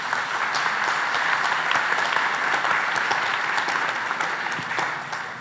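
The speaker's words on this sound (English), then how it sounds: "So big applause for Duchin, who implemented everything." An audience claps steadily, a dense and fairly loud wash of applause that carries on for about five seconds with no voices, easing off slightly at the very end.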